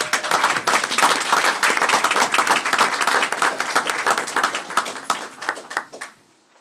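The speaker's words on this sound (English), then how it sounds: "Let's give this group a round of applause." Applause fills a school board meeting room, many hands clapping densely and steadily for about five seconds before thinning out and stopping.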